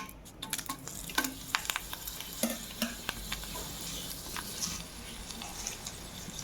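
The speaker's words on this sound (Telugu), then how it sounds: "తాలింపు దినుసులు వేసుకున్నాము." Tempering spices and dried red chillies frying in hot oil for Andhra-style tomato dal, a soft steady sizzle with scattered light crackles and occasional scraping, fairly quiet throughout.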